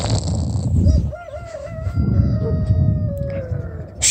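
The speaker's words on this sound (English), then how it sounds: "Shut up, you rooster!" A farm rooster crows in a long, wavering call that stretches over several seconds above loud, rumbling wind or handling noise.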